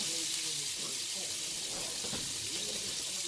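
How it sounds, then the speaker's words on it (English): Roux for creamy bacon mac and cheese sizzling in a pan, a steady soft hiss with faint scraping and stirring underneath, quiet and continuous. "you'll continue to cook the roux"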